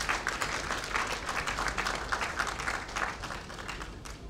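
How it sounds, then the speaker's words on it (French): An audience at a book launch ceremony applauds steadily, a dense wash of clapping from a hall crowd that holds evenly before easing slightly at the end. "que je vous demande d'applaudir très fort"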